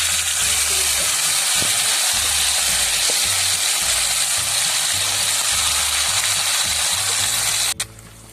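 Beef pieces frying loudly in hot oil for Kerala beef pickle, a dense, steady close sizzle throughout with faint stirring clinks and no voices, stopping abruptly near the end.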